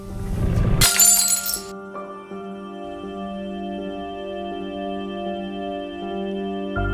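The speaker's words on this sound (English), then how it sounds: "Occasionally, I drop a teacup to shatter on the floor." A teacup dropped on a floor shatters in one sharp, bright crash, and the broken pieces settle quickly. Steady tonal music with a soft ticking pulse continues afterward.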